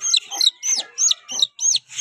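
A chicken clucks and squawks close by, six or seven sharp, rising calls in quick succession.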